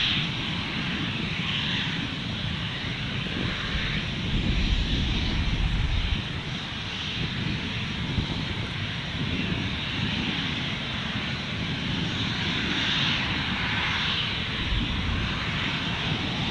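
Qantas passenger plane taking off from Gold Coast Airport, a steady, loud engine roar with broadband rumble that holds throughout, swelling slightly midway as the aircraft departs along the runway.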